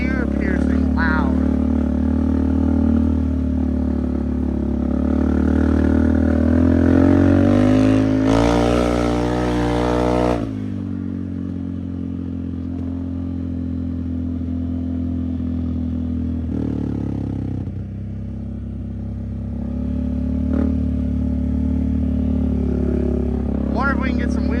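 A Can-Am Outlander ATV fitted with a new loud exhaust revs hard, its piercing engine note swelling to a peak mid-clip before dropping back to a rough idle and climbing again, with people talking over it.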